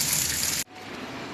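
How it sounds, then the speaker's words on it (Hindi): Two taps run together, a loud close gush of water that cuts off sharply midway, followed by a quieter steady flow. "तो अब ये दोनों टैप चलाए हैं, पानी चलेगा"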